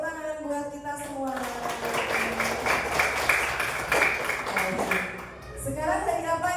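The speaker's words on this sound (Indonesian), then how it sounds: "Oke, tepuk tangan buat kita semua" A class of schoolchildren claps together in a classroom, a few seconds of dense, mid-level applause that swells after a teacher's voice and fades as talking resumes.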